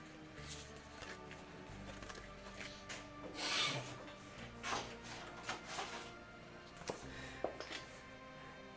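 Faint, dry rubbing and shuffling of cards from the Shadows of Brimstone board game being leafed through on a table, a steady low rustle with occasional soft slaps, under a low background hum.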